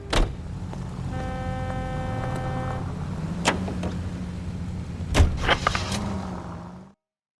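A 1940s-style car in L.A. Noire: doors thunk shut, then the engine idles and hums steadily with a tonal whine, ending with a couple of clunks before cutting off.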